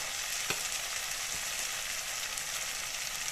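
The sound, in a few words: ground spices frying in oil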